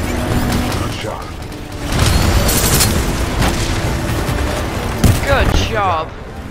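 Explosion in the Titanfall 2 video game: a loud, booming blast with dense, crackling combat noise and layered effects that keep roaring for several seconds, with game voices heard over it.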